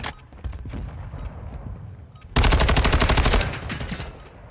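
Automatic gunfire from a Call of Duty Modern Warfare 2 match: a few scattered shots and echoes, then a loud, sustained rapid-fire burst that hammers on for about two seconds before tapering into reverberation.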